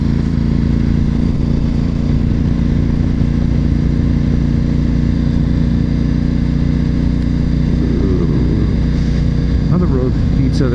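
A car drives along Highway 5 through farmland, its engine and road noise forming a loud, steady, unbroken drone from inside the cabin as it picks up speed.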